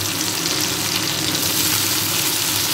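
Cauliflower hits hot oil in a frying pan, setting off a loud, steady, hissing sizzle that holds evenly throughout, close up and with no talking.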